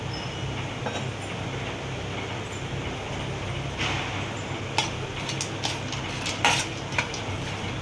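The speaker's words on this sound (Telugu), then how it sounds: "కడాయి పెట్టుకొని 1 స్పూను నెయ్యి వేసుకుంటున్నా. వేసుకొని ఇది డ్రై ఫ్రూట్స్ వేయించుకోవాలి." Chopped cashews, almonds and pistachios sizzle in a spoonful of hot ghee in a kadai, a steady broadband frying hiss with occasional sharp metal clinks from a spoon against the pan.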